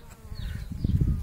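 Honeybees buzz close by at a hive fitted with a pollen trap, a low, busy drone of several insects humming together with a few louder passes.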